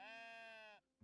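Sheep bleating in the building game Tiny Glade: one long, clear, strongly tonal bleat lasting most of a second, close and prominent, then a brief quiet gap before a soft low thump.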